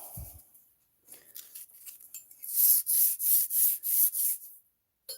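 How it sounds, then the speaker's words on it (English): Sandpaper rubbed back and forth over corrosion on a mountain bike part, first a few light scuffs, then about six loud, close, rhythmic gritty strokes before stopping. "I'll just touch it with some sandpaper."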